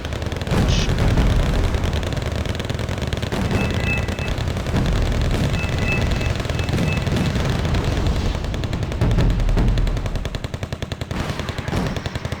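Leopard tank and battlefield gunfire in Wargame: Red Dragon, with dense rapid machine-gun bursts and sharp cracks of shots rattling continuously under a steady loud rumble.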